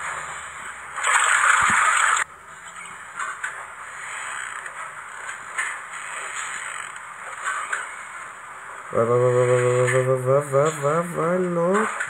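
Water rises and sloshes in the puzzle game Cube Escape: The Mill, with a loud gushing burst near the start that gives way to a quieter wash, followed later by a warbling, croaky tone.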